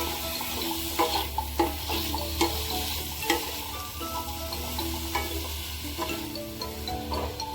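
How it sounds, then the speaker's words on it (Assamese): Red pumpkin with cumin powder, spices and salt being stir-fried in a pan for a pumpkin and fish curry: steady close sizzle and hiss with repeated sharp scrapes and knocks of a spatula at irregular intervals, no voices. "ভালকৈ লৰাই ভাজি ল'ব।"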